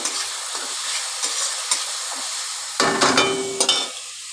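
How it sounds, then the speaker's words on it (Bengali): Chopped spice mix stirred and fried in a pan for egg bhujia curry: a constant bright sizzle with intermittent spatula strokes and a louder burst of frying and scraping near the end. "এবার আমি এটাকে ভালো করে নেড়ে চেড়ে ভেজে নেব, ভালো করে নাড়াচাড়া করে ভেজে নেব"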